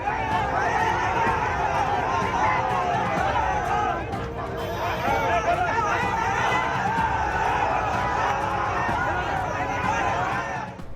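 A dense crowd of young men mills around a lone police officer in Mahua Bazar, Ambedkar Nagar, during a protest, with loud overlapping shouting and excited chatter that runs nonstop for the whole stretch, close and chaotic.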